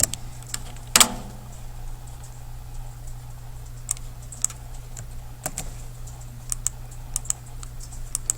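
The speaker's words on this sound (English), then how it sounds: "I love it when it doesn't keep up with my typing." Sparse keystrokes on a computer keyboard, one sharp louder click near the start and then scattered light taps spread out over a steady low room hum.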